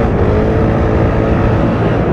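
A Piaggio Vespa 300 GTS scooter engine drones loudly and steadily at close range while accelerating, with constant wind-like rumble.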